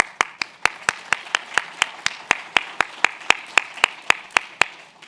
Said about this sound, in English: we should give her a big round before we start